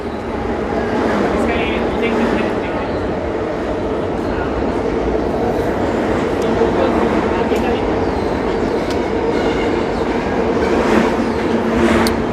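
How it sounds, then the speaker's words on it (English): NYC subway train rumbling below street grates near Union Square at night, a steady loud roar with clattering, while someone talks over it amid city street noise. "the subway is running right below these grates as they head right into Union Square"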